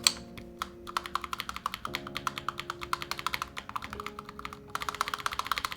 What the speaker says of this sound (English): Let me try a GMK spacebar.